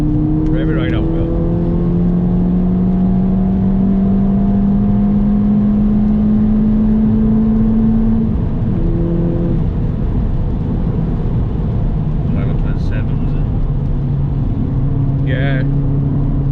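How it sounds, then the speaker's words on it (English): A car engine on a tuning session revs hard and steadily, a loud, sustained droning roar that holds high and then eases slightly, with a voice briefly heard over it. "Rev it right up, Will."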